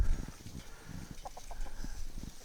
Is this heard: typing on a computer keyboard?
no